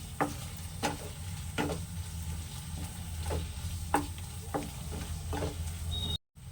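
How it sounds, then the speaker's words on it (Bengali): Masala paneer with kasuri methi is stirred in a pan over a low steady sizzle, with a regular series of spoon scrapes and taps about every half second to second before a brief cutoff near the end. "কাসুরি মেথিটা দেওয়ার পর এটা ভালোভাবে নাড়াচাড়া করে নেবেন।"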